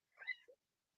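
A female house cat gives a short double meow: a bright, close meow followed quickly by a lower, briefer second call, then silence, with no talking.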